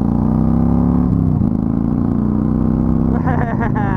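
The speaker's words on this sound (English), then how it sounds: "this exhaust sound has grown on me incredibly" Exhaust note of a motorcycle during a ride, a steady, loud, low engine drone with a pitch shift midway and a brief rev change near the end.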